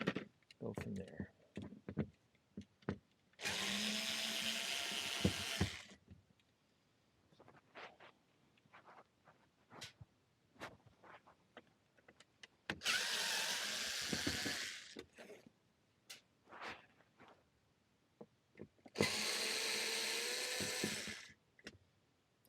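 A power drill backs out screws from a wall thermostat in three separate loud whirring bursts of a few seconds each, with clicks and handling noises between and a voice speaking in the gaps.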